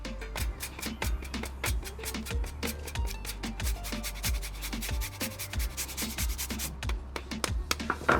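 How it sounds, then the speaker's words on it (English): Lime zest is grated in a kitchen with a steady series of soft scraping rubs, repeated quickly and evenly at close range, fairly quiet and without speech. "The zest of a lime."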